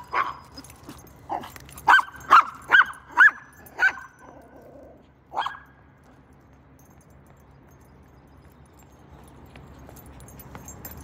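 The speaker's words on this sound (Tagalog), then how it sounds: "Sorry po sa barking po niya ha" A pet dog barks outdoors on a morning walk, a quick run of five or six sharp close barks followed by one last bark, then quiet background.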